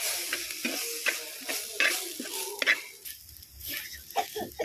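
Chili, turmeric, fenugreek and black pepper powders roast in a pan, giving a quiet, uneven sizzle broken by repeated scraping stirs and small clinks.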